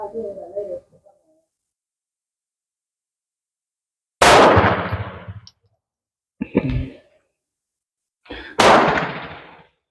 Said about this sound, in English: I'm going to do 8 shots this time.